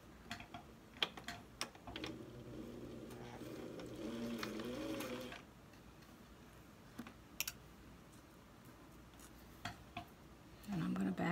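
A sewing machine stitches along a zipper's teeth on a small catch-all bag, with one steady whirring run of a few seconds, another starting at the end, and scattered light clicks between them, all quiet and close.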